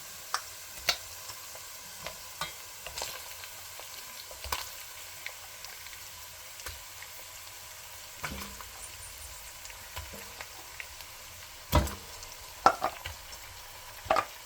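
Beef trotters frying in a pot for beef paya, stirred now and then, giving a low steady sizzle with sporadic scraping clinks and a few louder knocks near the end, no voices.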